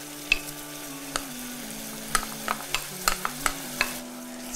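Green beans fry in a pan over low heat with a soft continuous sizzle, while a utensil stirs and scrapes with several sharp clicks and taps.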